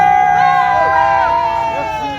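Dense crowd at a diaspora street demonstration in Paris, cheering, shouting and whooping continuously and loudly, with overlapping voices and rising calls filling the whole stretch.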